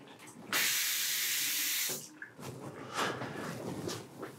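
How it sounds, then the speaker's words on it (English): Water runs from a tap in a steady, loud hissing gush for about a second and a half, then cuts off, followed by softer splashes and a voice talking nearby. "Water's running fine."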